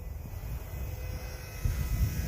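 Eachine Mini BF109 400mm RC warbird flying at about half throttle, a steady whining motor and propeller drone carrying at moderate distance and swelling slightly toward the end.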